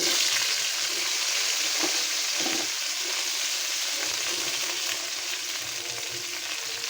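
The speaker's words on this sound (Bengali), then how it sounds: "ভেন্ডিগুলো আমি হালকা তেলে ভাজা নিব" Okra frying in a little oil in a pan makes a steady, close sizzle with occasional stirring scrapes, continuous and alone throughout.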